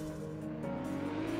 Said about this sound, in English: Let's slam on the handbrake here.